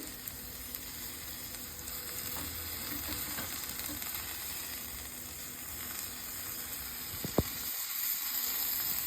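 Eggs frying in a hot pan topped with coriander, a steady soft sizzle and hiss running throughout, with one brief clink near the end.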